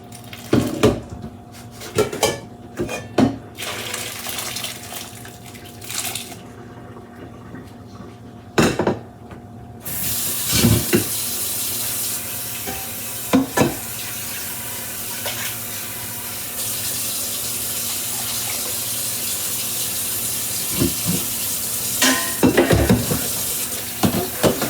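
Cooked rice noodles for Vietnamese chicken pho clatter in a pan at first, then tap water runs in a steady rushing stream over them with occasional knocks and sloshes.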